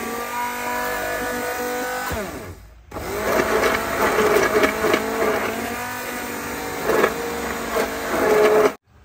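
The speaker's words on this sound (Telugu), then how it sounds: "పాలకూర మంచిగా దీన్ని బ్లెండ్ చేసేసుకుందాం అండి హ్యాండ్ బ్లెండర్తో." A hand blender whirs through cooked spinach and tomatoes, a loud motor whine with a brief pause and restart, its pitch shifting as it churns, close up.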